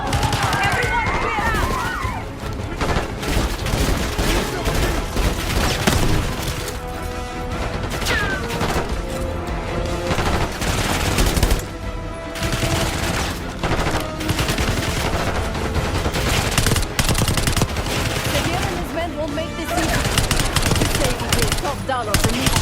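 Heavy automatic gunfire rattles almost without pause through a Call of Duty Black Ops 6 campaign battle, with crashes and impacts layered in and shouting voices under the din.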